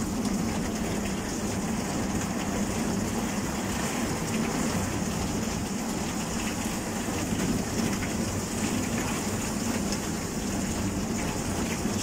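Heavy rain pours steadily during a July storm in Komsomolsk-on-Amur, a dense, unbroken hiss of falling water and rushing air that holds at the same level throughout, with no distinct thunderclap standing out and no voices.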